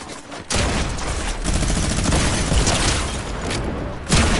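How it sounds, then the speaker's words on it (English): Rocket launcher fire and explosions in a shooter video game, a dense continuous barrage of booming blasts and gunfire that fills the whole stretch, loud and close with no talking over it. "I got a rocket launcher, ready?"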